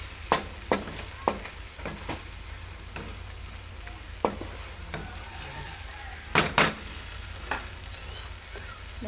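Shrimp heads frying in a pan with chayote and squash give a close, steady sizzle, punctuated by sharp, irregular clacks of a utensil against the pan.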